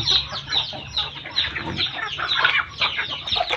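Backyard chickens cluck continuously while feeding, a busy layered chorus of close and nearby hens with a low steady hum beneath, and no one speaking.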